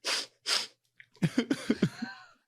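Two sharp breathy sniffs come first, followed by a short run of quick, wet snorting sniffles close to the microphone.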